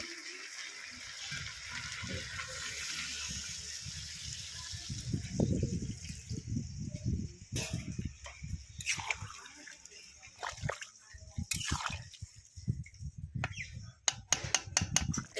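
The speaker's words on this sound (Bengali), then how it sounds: "এবার আমি গরম করে রাখা সে জলটা দিয়ে দিচ্ছি।" Heated water being poured into cooked country chicken curry made with ground spices, a sloshing, splashing gush that swells and then breaks into irregular splatters and clinks, close and moderately loud.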